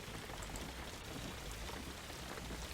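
Steady, dense rain in the driving game Jalopy, a constant broadband hiss of drops with no breaks, fairly loud and heard alone.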